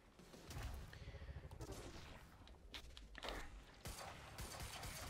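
Rapid bursts of gunfire from combat in the video game Quantum Break, dense rattling volleys with sharp cracks and a sudden louder blast near the end, under steady game background noise.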